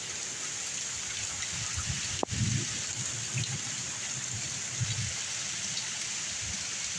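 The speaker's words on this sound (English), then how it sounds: "Mainly all we got now is a bunch of rain and some thunder." Steady rain falls through a thunderstorm with damaging winds, a constant wash of drops on surfaces and low rumbles of thunder rolling underneath, plus one sharp brief crack partway through.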